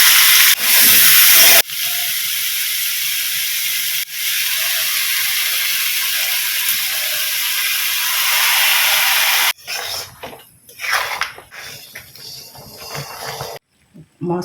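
Whole spices and chilli hit hot mustard oil for a Bengali mango pickle, giving a loud, steady hiss and crackle that runs unbroken for several seconds before breaking into quieter, uneven spurts of sizzle.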